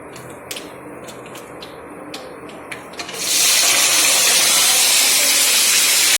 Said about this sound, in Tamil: பொரிஞ்சோடனே வெங்காயம் அண்ட் கருவேப்பிலை போட்டு பூண்டு போட்டு தாளிச்சிடலாம்